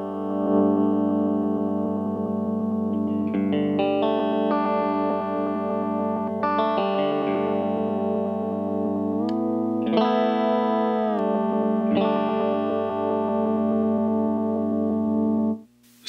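Electric guitar played through a modified true-bypass Digitech Whammy pedal on its detune setting, sustained chords with a shimmering, fluttery chorus-like doubling, changing chords every couple of seconds, loud and steady throughout with no talk.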